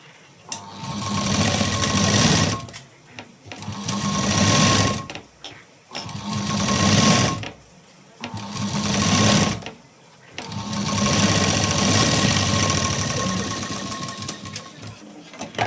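A sewing machine stitches a bowl-shaped fabric katori in loud, close bursts of rapid whirring, four long runs broken by short pauses, with no talking.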